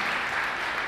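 Audience applause at a lecture on politics and the left in a cultural centre, a dense, steady wash of clapping from many hands throughout, fairly distant and even.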